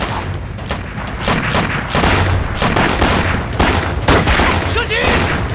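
Dense bursts of gunfire in a wartime anti-Japanese resistance film, rapid overlapping shots and booms filling the scene, loud and close, with shouted voices mixed under the shooting.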